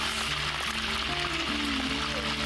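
Rats deep frying in hot oil give off a steady, dense sizzle with crackling bursts, heard close up throughout, while tonal voices or background sounds drift over it.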